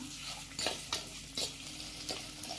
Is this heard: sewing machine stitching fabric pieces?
no